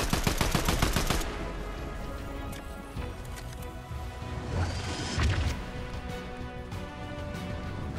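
Gunfire in Fortnite Chapter 2, a rapid burst of loud shots at the start followed by scattered, heavier impacts and game noise throughout.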